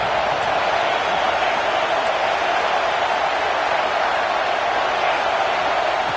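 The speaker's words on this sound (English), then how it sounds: "Third down and the crowd really getting into it." Broad, continuous roar of a large football stadium crowd cheering on third down in an Oregon vs Oklahoma game, loud and steady throughout with no breaks.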